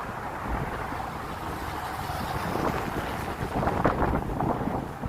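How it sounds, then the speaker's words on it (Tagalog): Strong wind roars across the microphone during dragon boat paddling training on the water, a rough continuous rumble that grows gustier and louder toward the end. "Lakas ang hangin."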